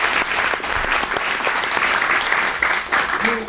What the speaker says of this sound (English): May we have another round of applause for Lorcan Ottaway